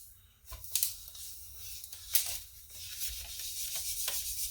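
Dry paper towel rubbing and wiping dry erase and permanent marker off a hard surface, a close, steady scrubbing with brief louder swipes and no talking.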